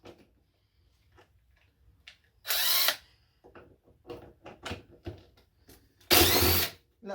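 An LG front-load washer is being taken apart as a power drill with a 10 mm socket backs out its bolts. There are two loud, sustained whirring bursts, each lasting about half a second, with quieter clicks and handling noises between them.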